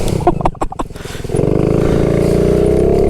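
A Honda Z50R minibike spins out doing donuts, its small engine popping in rapid uneven bursts before settling into a loud, steady high-revving drone, close up and with no talk.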